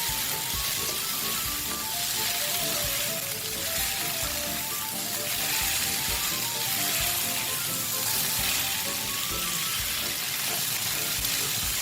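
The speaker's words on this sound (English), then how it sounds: "I'll just let it fry again for about half a minute" Snake gourd and jackfruit seed thoran fries with grated coconut in a Kerala stir fry, giving a loud, constant sizzle and crackle under a running voice.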